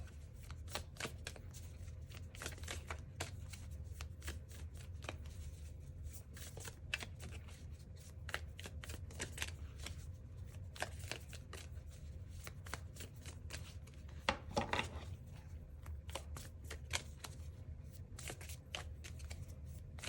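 Tarot cards being shuffled by hand in a steady run of crisp riffling flicks and soft slaps, close and fairly quiet, continuing without pause and with no talking.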